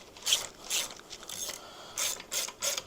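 Close, quiet ratcheting clicks from a socket ratchet worked on the primary of a 1972 Harley XLCH Ironhead, coming in short repeated strokes with brief pauses.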